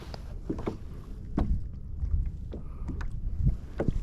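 A kayak is paddled at sea toward Filfla off Malta, with irregular splashing paddle strokes and water sloshing against the hull under a low rumble of wind.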